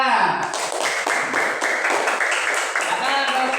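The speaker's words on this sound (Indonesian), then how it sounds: "tepuk tangan anak" A fourth-grade elementary class of children claps together in quick rhythmic bursts, loud and close, filling the room for a few seconds.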